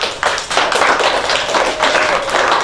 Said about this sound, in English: Everybody give Mackenzie a big round of applause